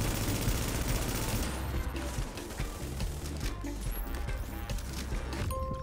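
Gunfire in Division 2, a loud rapid volley of automatic shots at the start that thins into scattered nearby shots and mechanical clatter over the following seconds.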